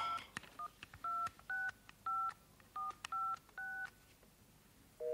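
Telephone keypad tones beep in a quick run of about nine evenly spaced two-tone presses, clear and close, with a short tone starting at the very end; no busy signal is evident.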